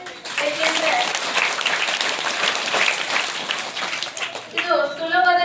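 Children at a government school clap together to thank donors, a dense, steady burst of applause lasting several seconds, with faint voices and tonal sounds near the start and end.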